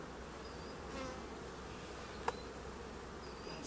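Honeybees buzzing around an open hive as nectar is stored and brood emerges, a steady close hum with a brief sharp click partway through.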